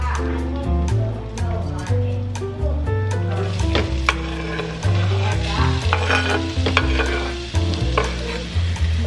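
Mussels stirred and cooking in an Our Place Always Pan, a steady sizzle with scraping and clattering of shells and a spoon against the pan, close up, while someone talks at intervals.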